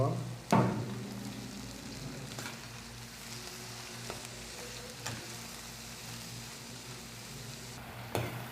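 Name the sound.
frying spiny eel fish curry with onion and spices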